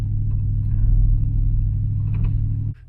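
A Lexus LX470 driving off-road on slushy dirt with its ABS engaging, a loud, steady engine rumble with faint chattering, ending abruptly.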